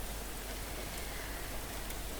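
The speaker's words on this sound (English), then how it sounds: "Will it ever stop raining in this city?" Rain falls steadily in a city in the video game Severed Shadow, a dense even hiss with no breaks or voices.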